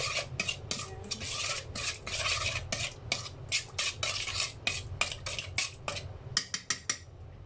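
Creamy cucumber salad with sesame oil being stirred in a bowl with a utensil, making close, rhythmic scraping and wet swishing strokes with occasional clinks against the side.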